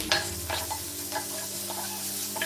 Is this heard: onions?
yes